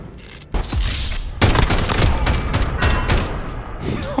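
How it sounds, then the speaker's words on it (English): Rapid gunfire from a Modern Warfare match, shots punching through a wall: loud bursts of automatic fire with booming impacts, nearly continuous after a brief opening pop, close and dominant with a voice reacting under it. "He's shooting through the wall."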